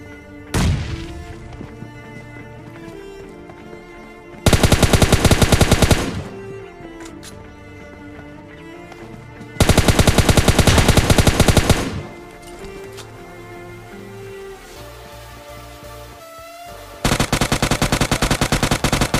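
M4 rifle gunfire in the PUBG Mobile battle-royale game: three loud sustained automatic bursts of a few seconds each, separated by quieter in-game ambience and music, with no talk.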